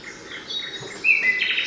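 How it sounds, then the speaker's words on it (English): A sleep sound machine plays recorded birdsong. Soft, close chirps and whistled trills come over a steady hiss and grow brighter toward the end, with no voices. "your morning bird song."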